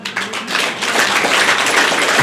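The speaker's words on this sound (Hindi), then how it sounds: "भाई साहब के लिए ताली बजाओ" An audience applauds a man during a live talk, a dense, steady wash of many hands clapping that starts almost at once and holds loud and even to the end.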